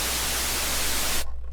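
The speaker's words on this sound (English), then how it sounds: "We've got white noise." Steady hissing white noise from a synthesizer, loud and even, cutting off abruptly near the end to a faint residual hiss.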